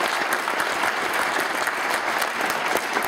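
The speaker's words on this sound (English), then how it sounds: "Yep, round of applause." A church congregation gives a round of applause: dense, even clapping from many hands that stays at full strength throughout, with no voices rising above it.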